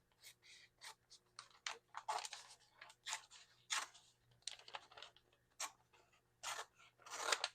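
Scissors snip through a frosted laminator sheet in a quick series of short crisp cuts, close and quiet against a faint low hum.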